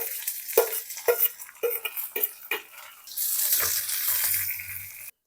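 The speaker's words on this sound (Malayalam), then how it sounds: "ഇനി നമുക്ക് വറ്റൽമുളകും കറിവേപ്പില ഇട്ട് കൊടുക്കാം" Dried red chilies and curry leaves dropped into hot oil for a chicken curry: several quick stirring and scraping knocks against the pan, then a steady loud sizzle and hiss of frying for a couple of seconds before cutting off.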